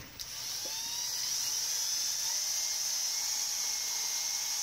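A power drill boring holes through steel angle iron, a high steady whine running continuously and fairly close after a short start.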